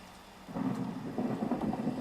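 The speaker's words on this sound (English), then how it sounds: "You can sleep during a thunderstorm, right? Is this not a thunderstorm?" In Minecraft, a thunderstorm rumbles with rain, a low rolling swell rising after half a second and holding steady, soft and distant under a hiss of falling rain, no voices.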